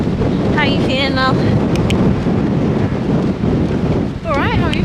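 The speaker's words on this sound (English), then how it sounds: "It's very windy" Strong wind buffets the microphone along the Thames Path between Dartford and Cliffe, a constant loud roar with brief bird-like chirps and faint voices underneath.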